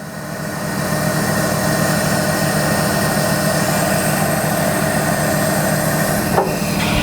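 An aerial lift's engine runs steadily while the hydraulic boom raises all the way up, a loud, continuous mechanical drone with a faint creak near the end.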